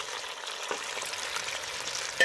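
Small boneless chicken pieces sizzle and crackle in hot ghee, a steady dense frying hiss with a few louder pops, close and alone without talk.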